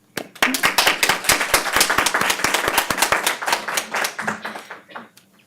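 Audience applause for student presenters at an education and social justice research presentation, a burst of dense, loud hand clapping from a nearby crowd that swells quickly, holds steady, then thins out and stops.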